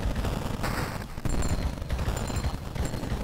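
Rapid bursts of double-shot gunfire from the video game Ammo Pigs crackle in quick succession, fairly faint and continuous.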